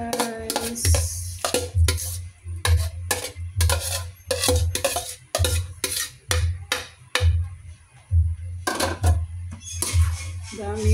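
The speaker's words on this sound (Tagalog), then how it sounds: "ilagay na natin yung mga ingredients guys, yung mga gulay na ginisa ko kanina" A spatula clanks and scrapes in a pan as sautéed vegetables are stirred into bihon guisado rice noodles, in a steady rhythm of sharp metallic taps close by, with a person talking at times.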